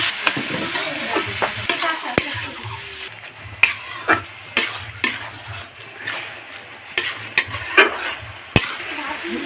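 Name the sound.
bottle gourd stirred in pan with salt and turmeric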